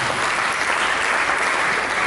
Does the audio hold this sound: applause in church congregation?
yes